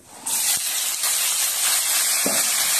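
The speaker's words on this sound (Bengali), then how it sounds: "এবার তোমার বিনস, ক্যাপসিকাম আর মটরশুঁটিগুলো আমি একবারে ভেজে নেব" Beans, capsicum and peas hitting hot oil together in a pan give a loud, steady steamy hiss that starts abruptly and runs on unbroken, with a couple of faint knocks beneath it and no talk.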